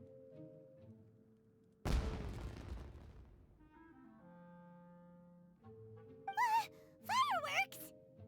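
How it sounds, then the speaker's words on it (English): A single loud blast bursts suddenly, with a crackling tail that fades over a second or two, followed by quieter tonal game music and whistling, squealing effects; voices react briefly afterward. "It sounded like fireworks."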